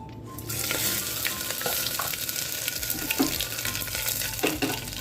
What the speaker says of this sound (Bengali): আদা জিরা পাঁচ ফোড়ন তেজপাতা শুকনো লঙ্কা এগুলো ফোড়নে দিয়ে দেবো